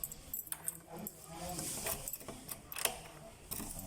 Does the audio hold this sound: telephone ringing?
no